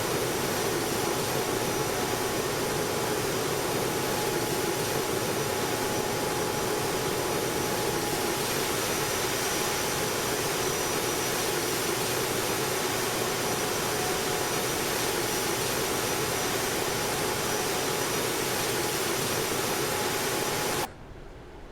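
A jet engine in the X-Plane 12 flight simulator roars in a loud, continuous broadband rush that holds steady for about twenty seconds before cutting off abruptly.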